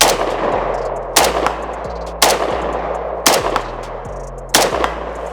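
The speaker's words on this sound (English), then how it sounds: "Let's see if I can do a 3-round burst." FB Radom Beryl rifle firing four sharp, loud bursts spaced about a second apart outdoors, each crack trailing into a long rumbling echo, with no talk.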